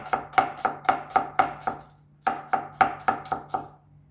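A knife chops vegetables finely for a tart on a cutting board in quick, even strokes, two runs of about seven sharp close knocks separated by a brief pause.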